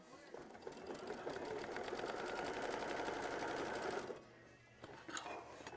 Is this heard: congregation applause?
no